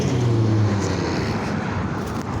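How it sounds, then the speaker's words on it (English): City bus arriving at a stop, a loud low engine rumble close by that eases slightly as it pulls in, with no talking. "Here's a bus."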